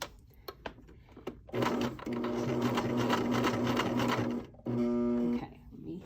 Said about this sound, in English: You're going to stitch this way, and then you're going to rotate just a little bit and start stitching out here